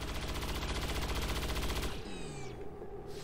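Gunfire in the video game XCOM 2: a sustained rapid automatic burst, loud and close, cutting off into a falling whine and lingering crackle, with no talk.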